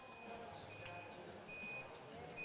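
End buzzer at a lawn bowls gold medal match at the 2025 School Sport Australia Games: a thin, steady electronic tone sounds in short on-off stretches, faint and distant over low ambient background noise.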